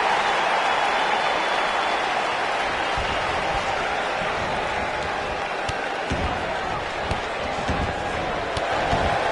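Roaring arena crowd at a wrestling video game event, a dense steady wall of cheering and applause that stays loud throughout, with occasional thuds and slams from the ring cutting through.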